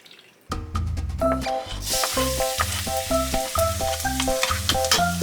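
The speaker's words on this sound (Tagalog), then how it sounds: "Nagigisa, laging basic na bawang, ano? Bawang, sibuyas, saka kamatis." Garlic, onion and tomato sauté in a pan, a steady hissing sizzle that swells after a couple of seconds and sits under loud rhythmic music.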